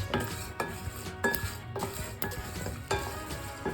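Tea masala spices, including dry ginger pieces, being dry-roasted in a hot pan, with steady sizzling crackle and regular spoon scrapes and knocks against the pan every half second or so, heard up close.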